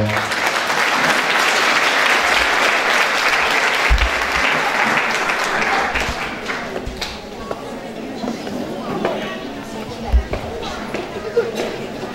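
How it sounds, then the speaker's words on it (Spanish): Loud crowd applause at a Women's Day celebration in Sutatausa, a dense roar of clapping for about six seconds that fades into sparse claps, murmuring and a few thumps. "Un aplauso para ella, por favor"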